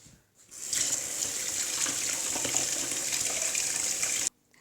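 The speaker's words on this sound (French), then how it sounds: "il faut laver le citron" Tap water runs steadily into a sink while a lemon is washed, a continuous close splashing gush that starts after a brief pause and stops abruptly near the end, with no talking.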